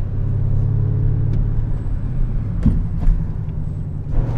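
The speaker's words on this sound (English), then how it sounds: "we're about to take the RS7 on the German Autobahn" Audi RS7 on the German Autobahn, a steady loud engine and road rumble from inside the car with a brief swelling surge partway through, no talking.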